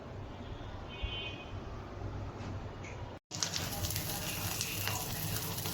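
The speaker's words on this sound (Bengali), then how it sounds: "আচ্ছা, এখন আমি এটাকে ভেজে নেব।" Hilsa fish roe frying in a pan gives off a steady, moderate sizzle. There is a brief cut partway through, and the hiss comes back a little brighter afterward.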